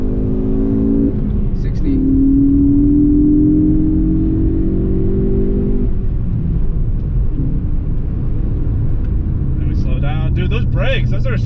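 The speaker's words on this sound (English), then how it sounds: "third gear pull is pretty long" Ford Focus ST pulling hard through a long third gear, its engine note climbing steadily with a brief dip at a shift, loud and close from inside the cabin while people talk over it.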